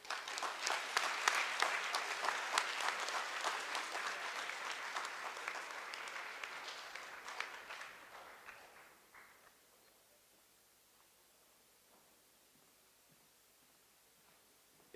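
Audience applause after a student speech contest address, a dense burst of clapping from a seated crowd that holds steady for several seconds, then thins and fades out to near silence by the end.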